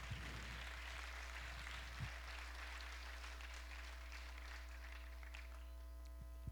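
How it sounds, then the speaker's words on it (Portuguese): A church congregation applauds with a steady wash of clapping, faint and distant beneath a constant low electrical hum. "Uma salva de palmas para o Senhor Jesus."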